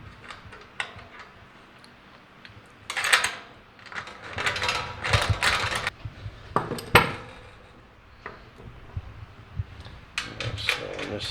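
A wrench works on bolts during assembly of a Char-Broil Performance 4-burner gas grill, giving bursts of metallic clicks, clinks and rattles that come and go over several seconds.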